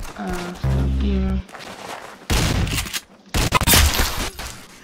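Gunfire in the video game Arsenal comes in several loud, sharp bursts and rapid volleys, separated by short quieter gaps, with a brief tonal game sound near the start.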